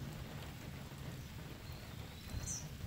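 Steady rain patters outdoors at a fishing spot, a continuous soft hiss with low rumbling underneath and a faint bird chirp near the end.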